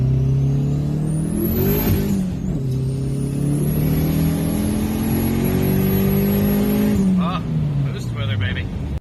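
A Dodge SRT4 fitted with a new turbo revs while driving, the engine note climbing and holding with a high turbo whine above it, then dropping off sharply as the throttle closes. Someone talks over it.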